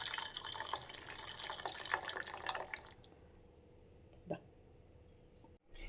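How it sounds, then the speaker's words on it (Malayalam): Boiling water pours into a bowl in a steady splashing stream for a few seconds, then stops, leaving quiet with a single soft knock afterward. "ഇനി അതിലേക്ക് തിളച്ച വെള്ളം ഒഴിക്കാൻ പോകുന്നു"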